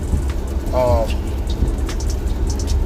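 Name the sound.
rain falling on a car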